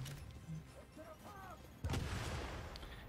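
A grenade explodes in the video game The Division: after a quiet stretch with faint tones, a sudden booming burst breaks in midway and rumbles on steadily to the end.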